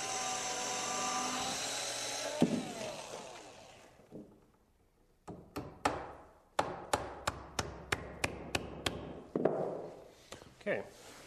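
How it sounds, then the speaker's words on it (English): A handheld drill using a nail as a bit whirs into wood in short bursts, each press a quick high whine with a sharp start, repeated about a dozen times after some scraping and thumps. "I'm using a nail here for a drill bit, which works really well because it's just the right size."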